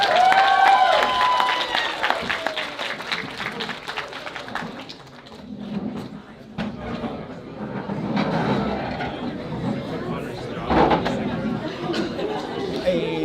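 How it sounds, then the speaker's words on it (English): Crowd at a college 2D animation cartoon premiere claps and chatters, a busy wash of applause with overlapping voices that dips midway then swells again, people talking throughout. "Let's give a round of applause."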